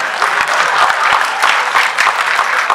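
Audience applause fills a poetry gathering, a steady dense patter of many hands clapping close by without a break.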